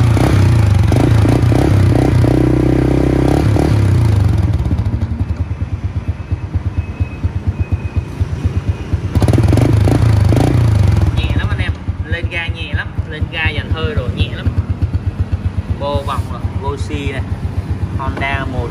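A 2008 Honda Super Dream motorcycle engine runs close by with a steady low throb that rises and dips, while someone talks over it throughout.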